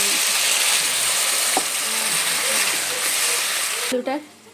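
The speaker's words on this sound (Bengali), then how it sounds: "আলুটা সিদ্ধ হবে ভালো করে, তাই কিছুটা আমি জল দিয়ে দিলাম এর মধ্যে।" Water is poured into a pan of frying okra and potatoes, a steady broad hiss and sizzle that continues close by, ending in a sharp burst of spitting as the water hits the hot oil.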